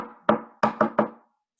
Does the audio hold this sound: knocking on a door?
yes